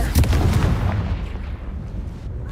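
Confringo spell explosion in a video game, a single booming blast with a deep rumble that quickly fades into a lingering low tail.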